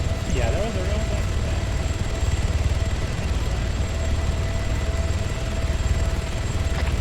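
Steady droning rotor and engine noise from a helicopter flying overhead, continuous and fairly loud throughout, with faint tonal whine and some background sounds.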